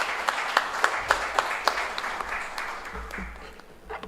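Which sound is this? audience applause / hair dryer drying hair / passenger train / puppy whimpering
audience applause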